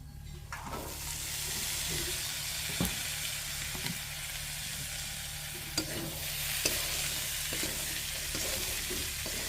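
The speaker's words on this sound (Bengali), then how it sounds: "মটরগুলো দেওয়ার পর এভাবে নাড়তে থাকবেন" Boiled peas for ghugni are stirred in a pan of sizzling spices and goat fat, giving a continuous close frying hiss broken by occasional scrapes and clacks of the spoon, with no talk.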